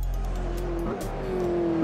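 McLaren Senna hypercar driven at Spa in Assetto Corsa on a VR setup, its engine droning steadily with a rising tone toward the end, close and continuous with no talk.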